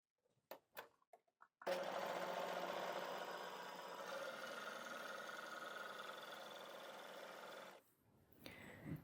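An overlocker runs through viscose challis woven fabric in one sustained, even whir of about six seconds, close and clear, preceded by a few clicks and followed by a brief shuffle.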